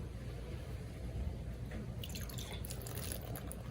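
Water poured onto the keyboard of an Acer Chromebook 315 in a durability test: a quiet room tone, then from about halfway through a fizzy, splashing trickle with scattered drips.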